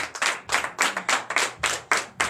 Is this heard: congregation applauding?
yes